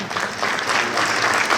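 Dense applause from a mosque community audience at a charity fundraiser, a brief, loud wash of many hands clapping.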